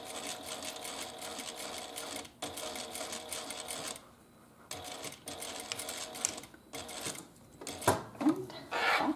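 A sewing machine runs top stitching along a Clematis wristlet in quick bursts of rapid mechanical whirring and needle clatter, separated by short pauses, with some handling clicks near the end.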